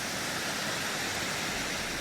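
The Cachoeira da Fumacinha waterfall roars at night, a steady, dense, full rush of falling water heard up close with no voices over it.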